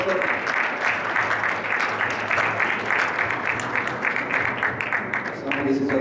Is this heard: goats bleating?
no